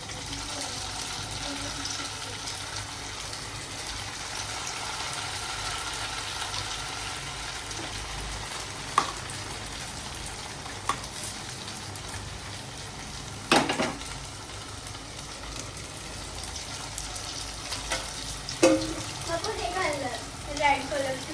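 Vadas frying in a pan make a continuous soft sizzle over the whole stretch, broken by occasional utensil clicks and clatter, with faint household sounds in the background.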